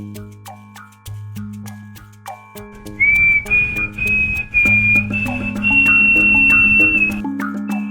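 A sustained shrill whistle blows over a melodic instrumental music track, held for several seconds in the middle and ending with a brief clock-like ticking pattern.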